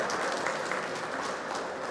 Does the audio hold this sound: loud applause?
yes